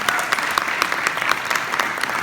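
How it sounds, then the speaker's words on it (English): An audience applauds Cindy at an insurance agents' event, dense steady clapping filling the room from start to finish with no voices over it. "How about another round of applause for Cindy?"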